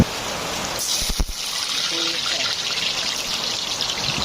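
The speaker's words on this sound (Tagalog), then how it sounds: "Sumisirit-sirit pa kasi tumutulo ang bubong." Water from a leaking roof trickles and dribbles steadily nearby, with a few brief knocks and soft background noise, no voices clear.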